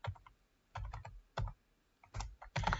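Computer keyboard keys are pressed in scattered single taps and short bursts, close and clear in a quiet room with no voices.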